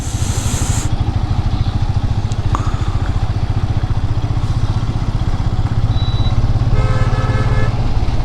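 A motorcycle rolls slowly along a muddy, badly damaged road on a long ride, its engine a steady low rumble throughout, with a short horn toot near the end.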